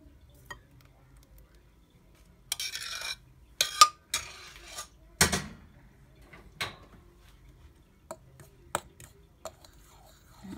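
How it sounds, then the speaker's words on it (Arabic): Cooked oats breakfast mixture stirred with a utensil in a pot, a handful of short scraping and clinking strokes spaced across a mostly quiet stretch, close and moderately loud. "نقلب بقى كله مع بعضه كده"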